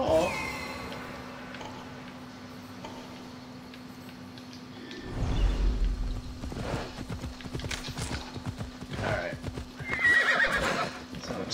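In Assassin's Creed Odyssey a horse's hooves clip-clop in a quick galloping rhythm and the horse whinnies sharply near the end, with players talking over the game sound.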